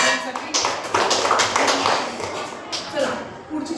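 Children clapping hands in a primary school classroom, a dense burst of irregular claps lasting several seconds, with some voices mixed in.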